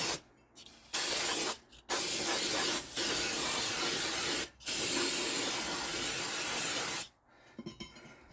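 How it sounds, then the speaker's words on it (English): Brake cleaner sprayed onto the brake rotor of a 2007 Ford Explorer in several long, steady hissing blasts broken by short pauses, loud and close, with faint clinks at the end. "So we are going to brake clean out all the contaminants out of the rotor."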